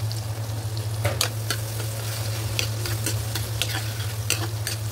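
Chopped garlic and onion sauté in melted butter in a pan, a steady close sizzle broken by several sharp scraping stirs of a spatula, with a low constant hum underneath and no talking.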